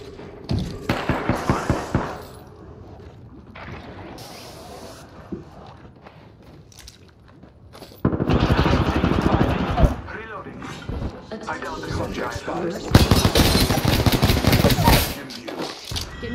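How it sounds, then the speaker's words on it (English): Gunfire from the video game Apex Legends comes in loud, rapid bursts of close shots at the start and again in the second half. Quieter, murkier stretches fall in between. "Getting shot at."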